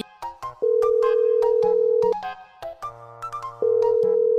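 Phone ringtone playing on an unanswered call, a loud electronic melody of sustained tones and short plinks repeating across several seconds with no talk over it.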